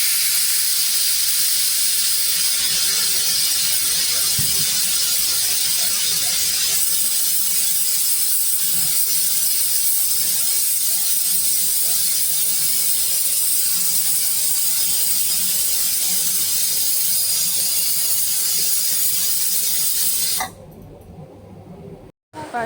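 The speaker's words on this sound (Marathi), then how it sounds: "आपण झाकण लावून परत याच्या 3 शिट्ट्या काढून घेणार आहोत" A pressure cooker of Agri-style mutton chana dal lets off steam in a loud, steady hiss for about twenty seconds, then abruptly goes quiet.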